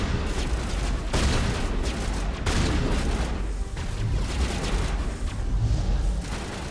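A shotgun fires in a video game: a few loud, sharp blasts at irregular intervals over a busy rumble of combat noise.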